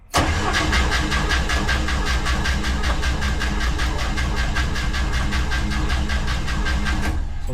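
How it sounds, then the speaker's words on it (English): An International Scout 80 engine cranks over on the starter in a fast, even rhythmic chug that stays loud and close for about seven seconds without catching, with no talking. "So I'm gonna crank again, see what happens."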